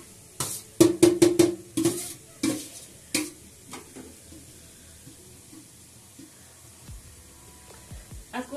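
Cauliflower frying in oil with spices in a village kitchen, with a rapid series of sharp stirring clanks against the pan early on, then quieter scattered scrapes over a faint sizzle.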